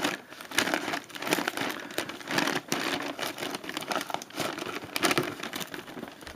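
A heavily taped mail package is unwrapped and its tape torn, giving a steady stretch of close crinkling, ripping and scratching that runs continuously without talk.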